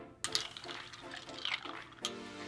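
An iced drink stirred in a Collins glass holding green tea: a few quick, close clinks and rattles of ice against glass, soft and brief, with no voices.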